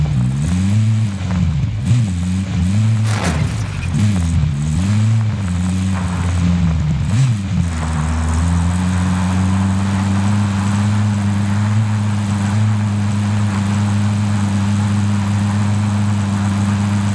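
A car driven in Call of Duty: Modern Warfare, its engine droning steadily with pitch rising and falling as it shifts, then settling into an even hum, loud and continuous without talk.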